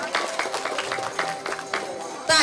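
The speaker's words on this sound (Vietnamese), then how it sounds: "Chúng ta nhiệt liệt vỗ tay" Clapping from the gathered guests at a former students' reunion ceremony for a primary and lower-secondary school, a steady mid-distance patter lasting a couple of seconds, with faint voices beneath it.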